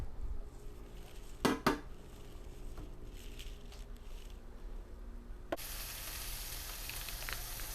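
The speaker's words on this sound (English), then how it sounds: "Now that my veggies have been cooking for a couple of minutes" Vegetables sizzling in a pan, a quiet continuous fry with a couple of sharp utensil clanks early on, then the sizzle suddenly grows brighter and louder toward the end; no speech.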